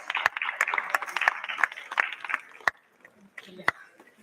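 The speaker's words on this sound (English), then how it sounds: "A big round of applause for our guest" Scattered, uneven hand claps from a modest audience at a plenary session on disability and human rights, welcoming a guest; the claps are sharp and fairly close, with some talk underneath and a sparser patch near the end.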